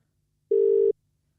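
A single steady electronic phone ring tone sounds for under half a second, clear and close, with silence before and after.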